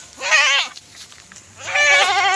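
Goats bleating loudly at close range on a farm, two long wavering calls about a second apart with a quiet gap between, one early and one near the end.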